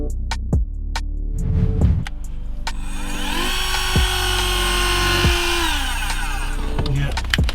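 Handheld Dremel rotary tool cutting into a metal screw while stripping the interior of a BMW E38, a steady high whine over 7 seconds with shifting pitch and a few sharp clicks, loud and close, no voices.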